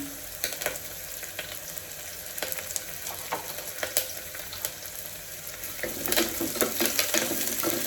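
Curry leaves drop into hot oil for mushroom palav, crackling and sizzling steadily with scattered pops, and the frying grows louder and busier toward the end.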